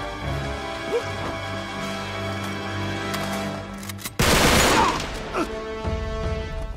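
Gunfire in the video game Uncharted 3 rings out over humming game music, with a few scattered shots early on and then a loud, dense burst of automatic fire in the middle before it fades to isolated pops.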